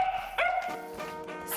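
A dog in an apartment gives a couple of close, loud barks followed by a whiny yip, short and sharp.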